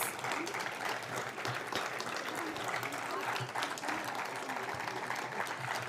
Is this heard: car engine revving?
no